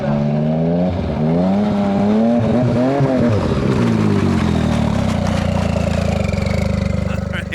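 A racing boat fitted with a brand-new motor runs a test pass on a lake, its engine roaring loud and steady with rising and falling pitch as it revs and pulls away, a continuous close drone throughout.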